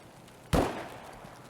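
A single sharp gunshot crack in a PMC raid video game, fairly faint and distant, with a short decaying echo trailing off into quiet.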